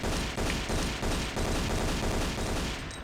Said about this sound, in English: Just going to shoot a bunch of bats.